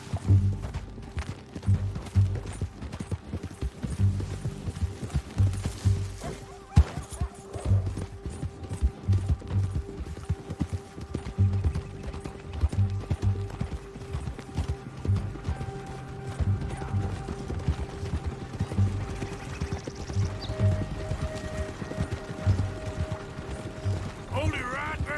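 Horse hooves gallop in the video game Red Dead Redemption, a steady rhythmic clip-clop that lasts throughout with some mechanical clatter, while voices talk over it.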